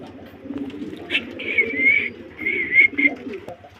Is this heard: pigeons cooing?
yes